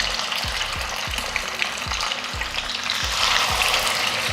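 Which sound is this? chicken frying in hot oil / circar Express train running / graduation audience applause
chicken frying in hot oil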